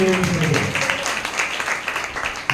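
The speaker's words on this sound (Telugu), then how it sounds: "చప్పట్లు." Applause from a congregation during a Christian sermon, a brief burst of clapping that stays fairly loud and then tapers off over a couple of seconds.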